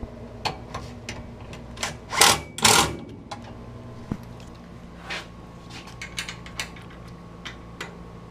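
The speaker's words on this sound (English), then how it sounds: "Now we'll take our 7/16 wrench and our impact," An impact wrench with a 7/16 socket tightening bolts on a Polaris 570 crew door: short whirring, rattling bursts, the loudest two close together, then lighter taps and clicks at close range.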